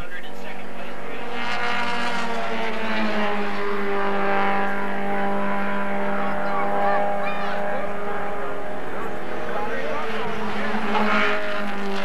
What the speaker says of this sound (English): Off course goes Max Herrera of Tulsa, Oklahoma, as his NG midget.